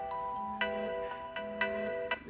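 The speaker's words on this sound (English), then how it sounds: "That's my alarm." A phone alarm goes off with a repeating electronic melody of bright, beeping notes in short phrases, fairly faint and heard alone over quiet room background.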